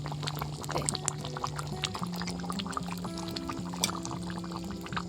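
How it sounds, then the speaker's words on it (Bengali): Fried cumin goes into a simmering curry of snakehead fish and taro, a close, wet pouring and gurgling sound with light clinks, steady throughout and without talk. "ভেজে রাখা জিরেগুলো এবার দিয়ে দেবো তরকারি"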